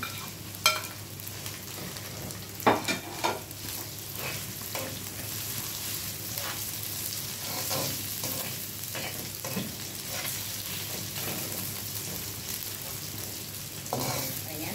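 Onion sautéing with leftover chicken in a pan, a steady close sizzle broken by scattered scraping stirs and clicks throughout, with no talk over it.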